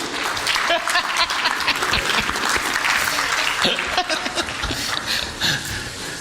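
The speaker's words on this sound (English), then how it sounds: "Let's give Emilio a round of applause." Audience applause at a U.S.-Mexico Foundation conversation, sustained lively clapping with scattered chuckles and voices through it.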